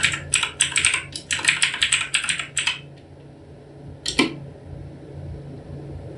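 Rapid typing on a computer keyboard, close and crisp, in a dense burst of keystrokes for nearly three seconds, then a pause and one short final flurry over a faint fan hum.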